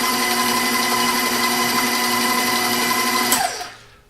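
A steady electric mixer with a paddle attachment whirs through cheesecake filling, close and constant, then spins down and stops near the end.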